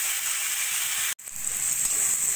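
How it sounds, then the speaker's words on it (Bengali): A pan of ginger-garlic paste masala frying over a stove, giving a steady close sizzle and hiss that drops out for an instant and then resumes at the same level. "দিয়ে দেবো 2 চামচ মতো আদা রসুন বাটা। এবার ভালো করে মশলাটা কষিয়ে নেব।"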